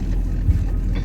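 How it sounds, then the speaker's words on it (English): Steady low rumble and drone inside the cab of an old truck, a continuous loud hum with slight fluctuations throughout. "you can hear this noise in this truck"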